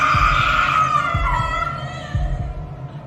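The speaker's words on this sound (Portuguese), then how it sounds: "A vista dela escureceu quando ela conseguiu gritar e ela começou a gritar muito." A woman screams in panic, one long high wail that slides downward and trails off, with low rhythmic thuds pulsing steadily underneath.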